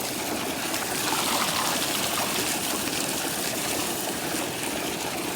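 Steady stream of water pouring into a swimming pool, a continuous broadband rushing and splashing that stays even and fairly close throughout, with no talk.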